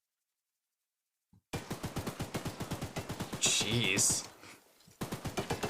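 A mounted turret in the horror game Choo-Choo Charles fires a rapid, heavy stream of shots after a moment of silence, loud and rhythmic with a brief harsher burst midway, while a man briefly exclaims.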